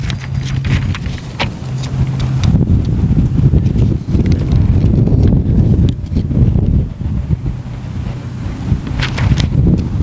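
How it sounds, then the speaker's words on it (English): Steady wind blows outdoors, a broad continuous rush with gusty low rumble throughout, loud and close on the microphone, with faint clip-clop-like knocks beneath. "The wind blows"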